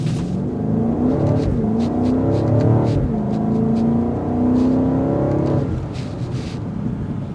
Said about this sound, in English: And now we're going to see the 0 to 60